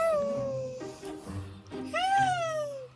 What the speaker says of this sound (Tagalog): Pero yan ay tunog pala ng pusa.